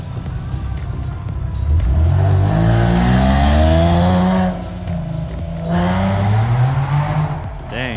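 An all-wheel-drive car accelerating hard past the listener, engine rising in pitch through two gear pulls with a brief dip between, tires squealing, loud and close, with faint voices nearby.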